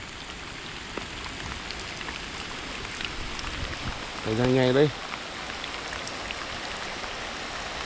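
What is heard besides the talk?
rain falling outdoors at night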